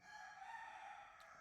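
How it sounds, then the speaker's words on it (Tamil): A household rooster crows from a distance, a faint, drawn-out call carrying in the background of a quiet room. "வீட்டில் இருக்க கோழி பதில் சொல்லுது"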